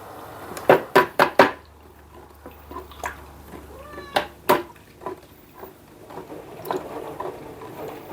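A cat meows several times in a quick burst, then again more softly, with faint clinks and small household sounds in a quiet room.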